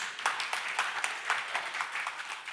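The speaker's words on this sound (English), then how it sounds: "Give her a round of applause, please." An audience at a church camp-meeting health workshop claps in a short burst of applause, a dense patter of many hands at moderate volume with no voices over it.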